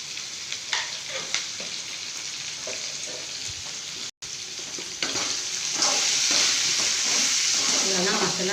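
Ivy gourd sautéing in oil with chili powder and salt in a home kitchen, a steady sizzle with scraping stirs, briefly cutting out before the frying hiss grows louder and brighter.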